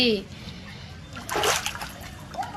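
Water splashes once, close and sudden, inside a flooded house, amid a watery background with brief bits of voice at the start and end.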